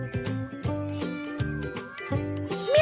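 A cartoon-style cat in a children's story meows a few times in short, clear calls, set against bright repeated musical tones.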